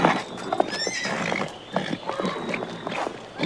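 A stallion whinnies with high quavering neighs while hooves clip-clop in a loose rhythm nearby, with a thin steady tone running underneath.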